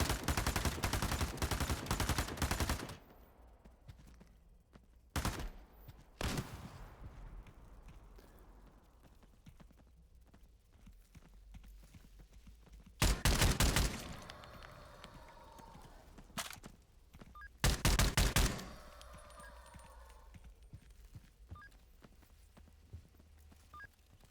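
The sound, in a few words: gunfire from a video game, shots through the floor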